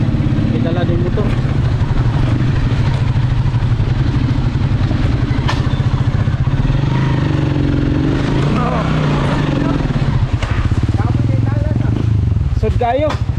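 A motorcycle engine runs steadily and loud throughout while riding along a rough rural road toward a village, with rattling clatter from the bumpy ride and someone talking over it.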